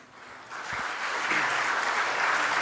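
An audience at an MBA and BBA inauguration ceremony applauds after a mesmerizing performance, the clapping swelling from quiet to a full, sustained roar of many hands.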